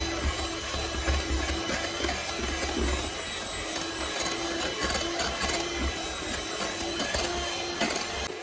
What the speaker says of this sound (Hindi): बैटर स्मूथ होने तक मिक्स करते रहना है।